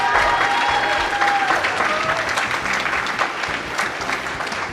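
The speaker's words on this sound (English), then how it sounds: "Can we get a round of applause for Spike as he just finished up his segment" Sustained applause from a live audience at a speedrunning marathon event, steady and dense throughout with light crowd noise, cheering for a runner finishing a segment of a Donkey Kong Country: Tropical Freeze relay.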